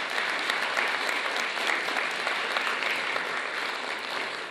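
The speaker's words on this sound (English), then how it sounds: "Round of applause for Ryan" A dinner audience applauds Ryan Gleason with steady, even clapping from a moderately sized crowd throughout, without a break.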